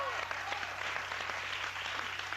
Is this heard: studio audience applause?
yes